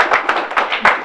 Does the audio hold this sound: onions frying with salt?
no